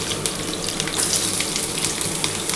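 Diced potatoes dropped into hot oil for a vegetarian yam-and-potato curry, a dense, even crackling sizzle that stays moderately loud throughout with small sputtering pops.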